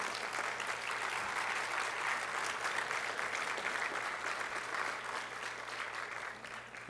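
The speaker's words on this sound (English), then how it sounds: "How about another round of applause?" Sustained audience applause at a formal gathering honoring Korean War defense veterans, a steady dense wash of clapping that carries evenly throughout and tapers slightly at the end, with no talk over it.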